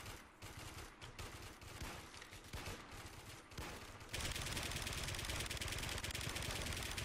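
Gunfire in a first-person shooter game: rapid automatic rifle bursts crackle in fast stuttering runs, then merge into a continuous dense roar of sustained fire.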